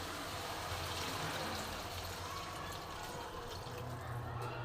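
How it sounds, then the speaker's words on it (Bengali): Water pouring into a pan of spiced vegetables, a continuous close splashing wash of liquid lasting throughout. "দেখো আমি জল দিয়ে দিচ্ছি"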